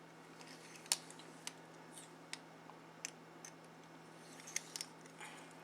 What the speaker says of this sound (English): Put the case back on, and then we're going to slide this back on and tighten it up.